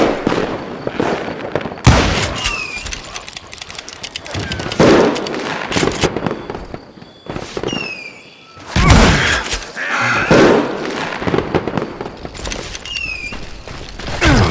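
Rapid gunfire from Call of Juarez: Gunslinger, loud close bursts of shots and cracks with short pauses and ricochet whines between volleys, set against a game soundtrack.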